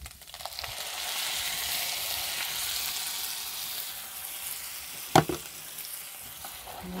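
Ground beef frying with tomato, onion and sauce in a pan, a steady close sizzle and crackle with one sharp clank of a utensil near the end.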